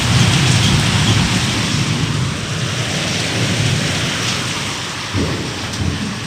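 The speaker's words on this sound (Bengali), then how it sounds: "বন্ধুরা দেখো, এখানে খুব জোর বৃষ্টি পড়ছে।" Heavy rain pouring down outdoors, a loud, dense, continuous roar of water with a deep rumbling undertone throughout.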